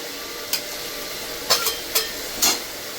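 Sliced okra goes into a pan of well-fried spice masala, giving four or five short, sharp scraping stirs over a faint, steady low sizzle in an otherwise quiet kitchen.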